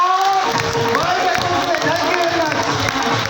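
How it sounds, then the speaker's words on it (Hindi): An audience at an RCM business gathering claps and cheers after a call for loud applause, a steady crowd wash with whoops and shouts, while voices carry over it throughout. "एक बार जोरदार ताली होनी चाहिए साहब"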